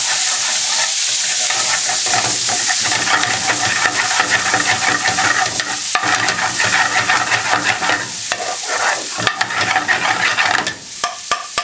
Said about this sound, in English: we're doing just frying these gently for about a minute, just to infuse the oil